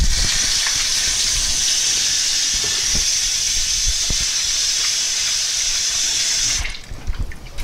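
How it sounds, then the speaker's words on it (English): Tap water runs steadily into a sink during handwashing in a kitchen, a broad continuous hiss with faint knocks of hands and dishes, cutting off near the end. "I'm going to wash my hands."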